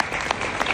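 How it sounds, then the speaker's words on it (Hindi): An audience claps together, a short burst of dense applause, close and fairly loud. "तालियां बजा दो।"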